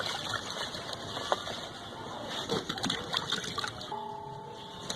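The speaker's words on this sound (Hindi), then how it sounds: "तो इनको सबको अच्छी तरह से धोना है।" Spinach and fenugreek greens are washed by hand in water as bird food, with quiet, uneven sloshing and small splashes close by.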